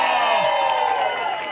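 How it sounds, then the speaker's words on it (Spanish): Studio audience on a Mexican late-night TV show applauding and cheering, a dense continuous roar of clapping and voices at steady loudness throughout. "Aplauso para Platanito."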